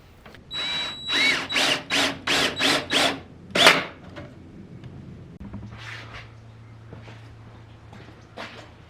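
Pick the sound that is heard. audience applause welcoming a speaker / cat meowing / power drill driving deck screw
power drill driving deck screw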